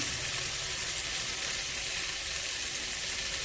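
Chopped capsicum and tomato hit the pan for a chicken stew, giving a soft, even frying hiss that holds steady and fairly quiet throughout, with no voices.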